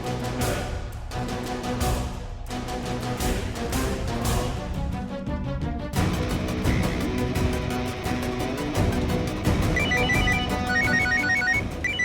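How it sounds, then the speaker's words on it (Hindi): A phone ringtone plays for a call from the boss, a loud, repeating electronic melody that runs steadily without pause, alone with no talk. "बॉस का फोन।"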